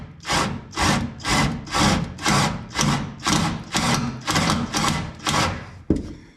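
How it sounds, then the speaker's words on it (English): A drill bores holes through a metal bracket for self-tapping bolts on a '55 Chevy, in about ten regular rhythmic bursts, each rising and easing off, close and fairly loud, with no talk. "so I just got to drill the hole, and then it like tightens itself up"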